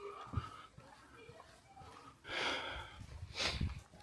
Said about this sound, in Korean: 숨을 너무 헐떡여가지고